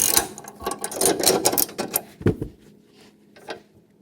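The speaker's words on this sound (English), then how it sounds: "I'm going to have a ratcheting wrench" A ratcheting wrench clicks through a burst of quick mechanical ratchet strokes while loosening a 19 mm bolt on a Husqvarna or Craftsman riding mower deck, close and fairly loud, then tapering off to a few isolated clicks.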